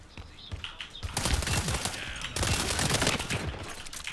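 Rapid machine-gun fire from the World War 3 video game comes in two dense, loud bursts of about a second each, separated by a brief gap, with no talking over them.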